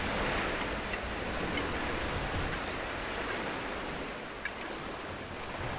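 Steady, loud rushing water fills the scene in the video game Rise of the Tomb Raider, a broad continuous roar like pouring or surging water, with no speech.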